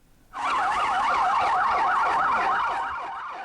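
Fire engine sirens wail in a rapid rising-and-falling pattern as the trucks race through a residential area of Gwangju, South Korea, toward a helicopter crash site. The siren is loud and close, swells in quickly, then eases slightly.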